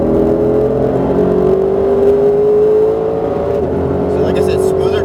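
A Ford GT sports car engine drones loud and close on a race track, its pitch climbing slowly under steady acceleration and easing slightly toward the end.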